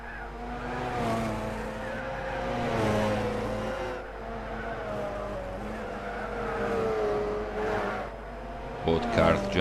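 GT300 race cars lap the Nurburgring during a 24-hour endurance race in a racing video game. Engines whine and drone steadily for about ten seconds, rising and falling as the cars climb and dip, with a brief clatter at the end.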